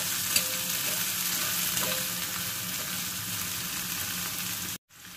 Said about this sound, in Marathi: आता हे फ्राय होतंय